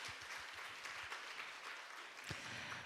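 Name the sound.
applause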